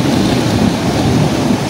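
Big ocean waves surge and crash in a steady, loud broadband roar with wind-like rumble, continuous throughout with no talking.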